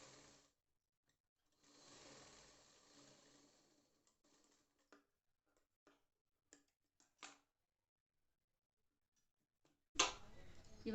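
A sewing machine stitches around a blouse tassel in short runs, a faint whirring patter that starts and stops between brief ticks and handling clicks, with a louder bump near the end.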